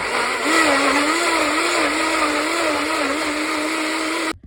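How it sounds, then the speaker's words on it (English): A kitchen blender purees chopped pears with lemon juice, its motor whirring loudly and steadily with a slightly wavering pitch before cutting off abruptly. "now you're going to put this in the blender to puree"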